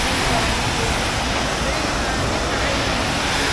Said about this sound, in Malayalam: നമ്മളിപ്പോൾ ചീയപ്പാറ വെള്ളച്ചാട്ടത്തിൻ്റെ അവിടെയാണുള്ളത്.